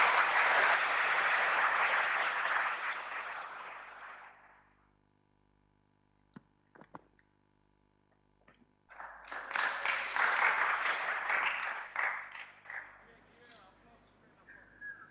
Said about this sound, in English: I think we should give a big round of applause for Sri Ravi Shankar ji